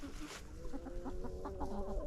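Reds and barred rock chickens cluck steadily inside a large 160-square-foot mobile coop, several soft repeated clucks close by, with a brief louder rustle near the start.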